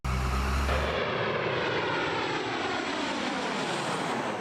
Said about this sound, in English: Commercial airliners are a bigger nuisance than ever before.